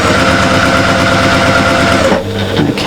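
Sewing machine stitching a quarter-inch seam through quilt squares, a loud steady mechanical whir with a rapid even rhythm that stops near the end, leaving a softer rattle.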